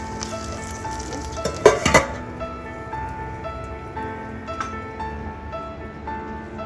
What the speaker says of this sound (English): Now I am going to add this mustard oil into this burnt coal.